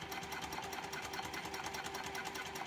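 Up close, a sewing machine stitches a seam on an all-cork clutch wallet with a fast, even mechanical whir and rapid needle chatter, continuous and without speech.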